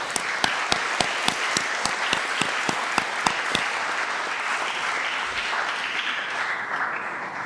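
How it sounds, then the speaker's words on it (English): An audience at a commencement ceremony applauds, opening with a burst of distinct, evenly spaced sharp claps that soon blend into sustained, fairly distant applause, fading slightly toward the end. "let's give them a round of applause as well at this time."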